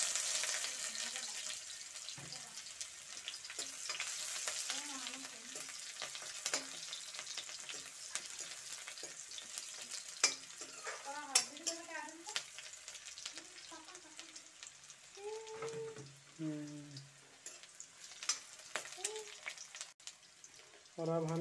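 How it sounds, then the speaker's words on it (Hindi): Onion frying in hot oil, a soft steady sizzle with occasional stirring clicks, fairly quiet, while a person talks over it intermittently. "तेल हो चुका है गरम, अब हम इसमें डालेंगे ये प्याज।"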